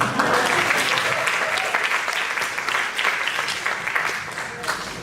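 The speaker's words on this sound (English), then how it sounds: "So give me an applause, please." An audience at a TEDx salon talk claps for a speaker, loud close applause with distinct individual claps, holding steady for five seconds and easing slightly toward the end.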